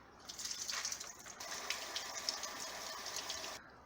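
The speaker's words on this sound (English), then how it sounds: "We'll drain and rinse the lentils." Lentils are rinsed and drained under a running kitchen tap, a faint, steady gush of water splashing through a strainer for a few seconds before cutting off.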